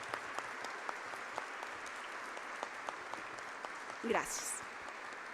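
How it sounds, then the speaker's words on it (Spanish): Faint, scattered clapping from an audience at a Guatemalan human rights event marking 75 years of the Universal Declaration of Human Rights, with a voice briefly speaking over it. "Por favor, démosle un aplauso."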